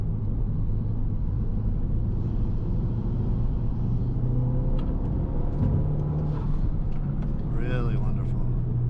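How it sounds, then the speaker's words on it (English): A Mazdaspeed 3 with CorkSport high-pressure fuel pump internals and a new tune accelerates hard in third gear, a steady loud engine rumble and drone heard from inside the cabin, with a person talking over it. "Wonderful third gear acceleration."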